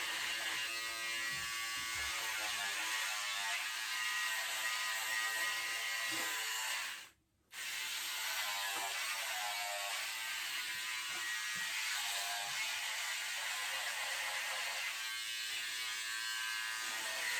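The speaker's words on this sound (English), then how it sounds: "I'm just going to finish shaving that off" An electric razor buzzes steadily and close while shaving a man's head, a continuous bright whir with a brief cutoff partway through, then running on, with no talking.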